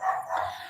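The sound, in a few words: dog barking in the street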